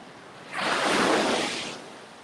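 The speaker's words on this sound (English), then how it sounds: "The tide hit pretty hard just then." Ocean waves surge onto a beach at Panama City, Florida as the tide comes in, a broad rushing wash that swells loudly about half a second in and then slowly recedes over steady surf and wind noise.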